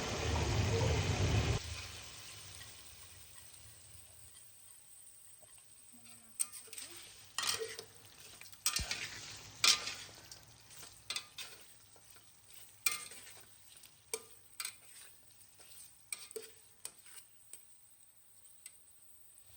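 Blended spices are stirred into meat in a pan: a brief loud sizzle at the start gives way to quiet, irregular scraping and clicking of a utensil against the pan over a faint hiss.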